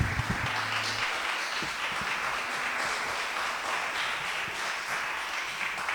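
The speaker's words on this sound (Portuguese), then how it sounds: "Aplauda o Senhor bem forte" A church congregation applauds during a worship service held in a garage, with continuous dense clapping at an even level and a few low thumps near the start.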